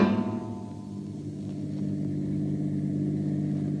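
A car engine rumbling as the vehicle pulls away, a strong low drone that drops briefly then settles into a steady mid-pitched running note, close and uninterrupted, with no speech.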